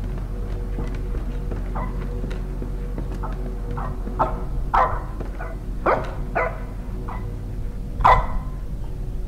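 A dog barks inside a video game: scattered short barks and yips, some louder and closer than others, over a constant low background drone.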